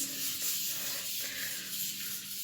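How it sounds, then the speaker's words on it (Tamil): Light scrubbing of a dirty floor tile coated with HSR cleaning liquid, a steady close-up brushing rub that continues for the whole stretch at an even, soft level, with no talking. "HSR லிக்விடை டச் பண்ணிவிட்டு இதை லைட்டாக ஸ்க்ரப் பண்ணுறேன்"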